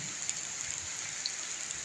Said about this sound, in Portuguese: chuvinha assim, calma, chovendo